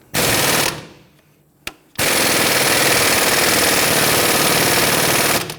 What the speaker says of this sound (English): Let's see if our impact gun will make lighter work of this